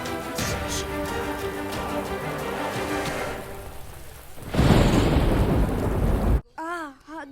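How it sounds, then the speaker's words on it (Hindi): Rain patters heavily while a deep rumble of thunder rolls in and swells loudly, then the storm cuts off and a voice is heard briefly. "घर जाओ, बारिश आने वाली है, भीग जाओगे।"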